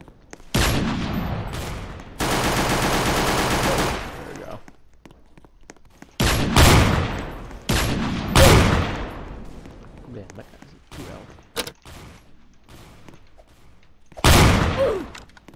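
Gunshots in the video game Strucid, a run of rapid fire early followed by several separate sharp blasts spread across the clip, loud and close, with a voice talking in between.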